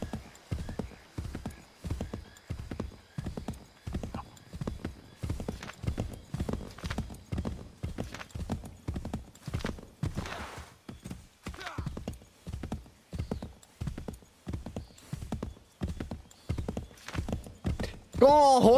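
Horse galloping in the video game Assassin's Creed III, a steady rhythmic run of hoofbeats with brief whinnies, while someone talks over it.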